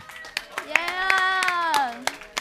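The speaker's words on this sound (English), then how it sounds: "give them a round of applause." A few sharp, scattered hand claps ring out at a vacation bible school gathering for crew leaders, while a drawn-out, excited voice cheers loudly over them.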